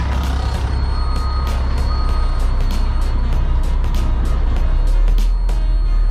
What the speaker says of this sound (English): I'm gonna have to back up